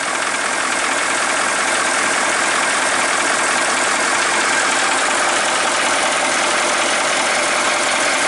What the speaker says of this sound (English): it's sitting out here idling, 120 pounds of air.